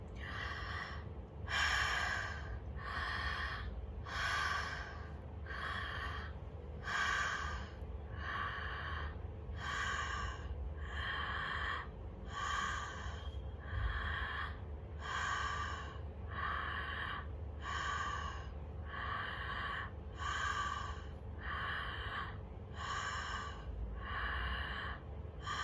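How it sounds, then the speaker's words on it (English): Shamanic breathing practice: about eighteen forceful, rhythmic breaths repeat steadily at close range, each a sharp airy rush in and out, with no talking. "And then shamanic breathing."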